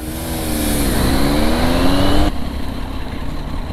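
A Triumph Street Triple 675 three-cylinder motorcycle engine revs close by, its pitch climbing through a loud pull before dropping off into a lower rumble.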